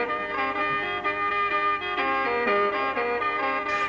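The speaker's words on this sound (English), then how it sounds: "You have classic Thai traditional music" Classic traditional Thai music with bright melodic instruments playing steady harmonic lines, a continuous, full ensemble texture with no talking.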